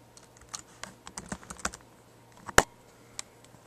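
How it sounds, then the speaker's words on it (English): Keystrokes on a MacBook keyboard as a password is typed, a run of light, uneven clicks with one sharp louder tap near the end, close and alone in a quiet room. "now you're gonna type in the new password"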